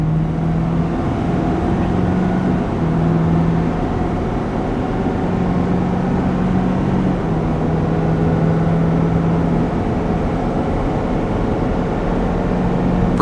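A 2023 Ford F350 pickup with the high-output Powerstroke diesel pulls a 10,000 lb trailer up a 6% grade at wide open throttle, giving a steady, loud, heavy engine drone that holds constant under the strain, with no talking.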